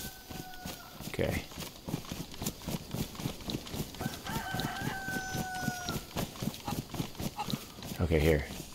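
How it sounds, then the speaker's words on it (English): A rooster crows twice in the survival video game DayZ: drawn-out crowing calls over a steady rhythmic clip-clop of in-game footsteps, with a person talking over parts of it. "Let's head towards the rooster."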